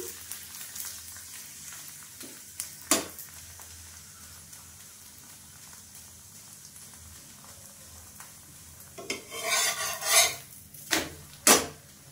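A mushroom roll fries in a little oil in a pan, a steady low sizzle running throughout with a few sharp utensil clinks and scraping bursts near the end.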